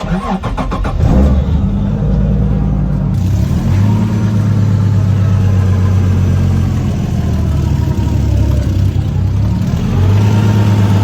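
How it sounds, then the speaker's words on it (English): A turbocharged car with an exhaust leak at the wastegate starts up and settles into a loud, steady idle close by, its low engine hum continuing throughout. "I'm gonna start the car to make sure that we have no exhaust leak before the turbo"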